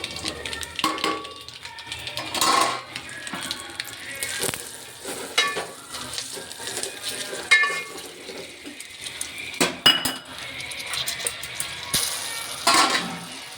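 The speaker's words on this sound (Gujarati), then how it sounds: "તેમાં આપણે મરચાં નાખી દઈશું" Green chillies drop into a hot pan for kadhi and fry with a steady broadband sizzle, punctuated by stirring and light clinks of utensils, fairly close and continuous throughout.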